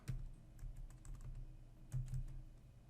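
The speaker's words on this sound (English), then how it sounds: "Try typing my letter again." Typing on a computer keyboard while entering text in the vi editor's insert mode, a quick run of close, soft key clicks in irregular bursts with a couple of louder presses.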